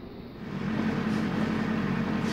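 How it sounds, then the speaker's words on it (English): A Suzuki Bandit 1200 motorcycle idles outside a door, a steady low engine hum that swells slightly then holds constant, muffled and moderately distant, with no talking. "my bike is running outside the door."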